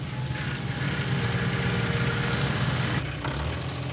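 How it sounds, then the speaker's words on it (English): A new tractor with a bulldozer blade comes up the road, its powerful engine a steady, heavy rumbling drone that holds near-constant loudness throughout. "he heard a powerful engine coming up the road"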